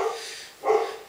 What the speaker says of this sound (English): excuse that, that's my dog barking.